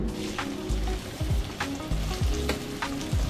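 Onions sizzle and fry steadily in hot oil in a pan for a Bengali mustard fish curry, with soft stirring scrapes now and then and no talking.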